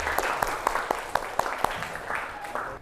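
Schoolchildren in a classroom lesson clap along in a short round of applause, with a few sharp, evenly spaced claps heard fairly faintly over a busy background of children's voices.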